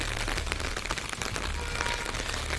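Heavy rain pours down steadily in a dense, hissing wash of drops, continuous and fairly faint with no voices over it.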